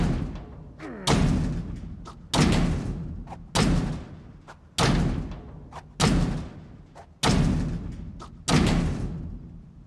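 Zombies pounding on a door in Project Zomboid: a steady series of about eight heavy, booming thuds spaced roughly a second apart, each ringing out briefly, loud and close with no speech over them.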